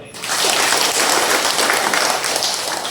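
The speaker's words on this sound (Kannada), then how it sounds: "ಒಂದು ಜೋರ ಚಪ್ಪಾಳೆ" Loud applause from an audience at a talk on nature and energy bursts in just after the start and holds as a dense, roaring clatter of clapping to the end.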